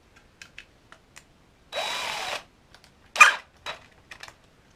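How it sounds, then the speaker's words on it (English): A power drill whirs in a short burst, failing to get through plastic, followed by another brief whine, among scattered clicks and taps in a quiet room. "It can't even drill through plastic."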